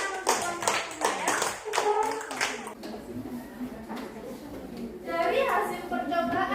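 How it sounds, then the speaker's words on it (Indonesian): A classroom of students claps for a presenting group during a school science lesson, several seconds of brisk, fairly close applause that fades into a teacher talking, with children's voices rising near the end. "Oke, berikan tepuk tangan untuk kelompok 5 ya"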